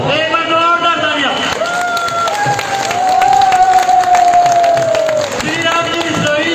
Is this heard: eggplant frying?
no